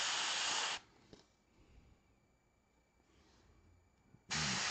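An airbrush spraying paint onto a gold-armored Adeptus Custodes miniature: a loud, steady hiss in two bursts at the start and end, with quiet handling noise between.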